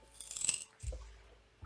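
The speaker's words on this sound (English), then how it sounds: "take one of the large craft sticks, a good pair of scissors, and you want to cut it into 3 pieces" A large wooden craft stick snapped by a pair of scissors, giving a sharp crisp crack followed by a dull thud of the piece landing, close and fairly quiet.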